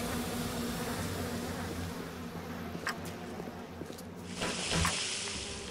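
Bees in the video game BioShock buzz in a dense, steady hum with game sounds around them and a brief louder hiss near the end.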